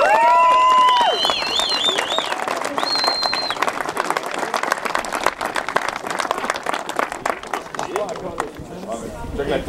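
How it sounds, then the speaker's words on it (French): Crowd applause and cheering for the third-place crew André and René Leblanc at the Rallye Sanair podium, sustained clapping with shouts and whistles, under an announcer's voice at the start. "les applaudis bien fort!"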